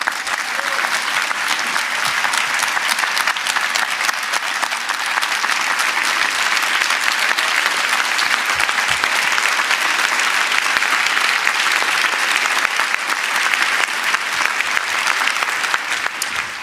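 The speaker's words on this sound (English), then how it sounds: "I think they deserve a great round of applause" A large audience at a mayor's State of the City address gives sustained, steady applause for city agency employees, even and loud throughout with no break.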